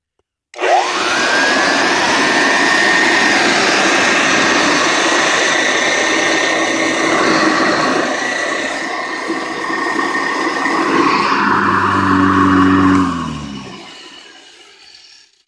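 A Hoover 150 vacuum cleaner runs with its bag mostly closed off, producing a loud, steady whirring roar whose pitch shifts slightly before the motor winds down at the end.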